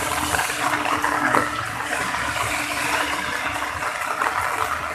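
Rain falling in Kathmandu, heard as a dense, continuous wash of water noise, loud and steady for the whole stretch with no voices.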